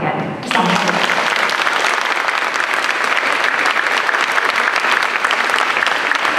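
Loud, steady applause from a concert audience for student band musicians, a dense wash of clapping that starts abruptly after a brief sound and continues unbroken.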